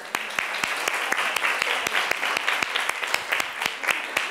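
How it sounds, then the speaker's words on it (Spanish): A small classroom group applauds a volunteer named Raquel, a few distinct hand claps close by in an uneven, sparse rhythm, moderately loud with no talk. "Un aplauso a Raquel"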